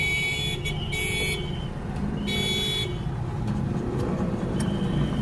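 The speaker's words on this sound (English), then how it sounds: "People beeping their horns like crazy." Car horns beep repeatedly in short and longer blasts over a steady rumble of engines and traffic in Burundi, fairly close and loud.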